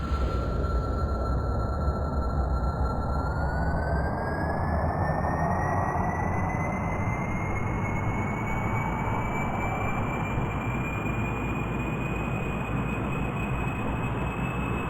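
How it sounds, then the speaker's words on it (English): A loud, steady video game jet engine roar with a rising start-up whine that climbs in pitch over several seconds, sustained throughout without pause. "jet engine start."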